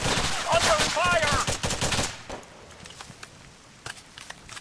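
Gunfire in the military video game Arma 3, a burst of rapid shots heard up close, followed by scattered, fainter single shots at a distance.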